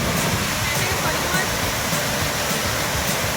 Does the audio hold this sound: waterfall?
yes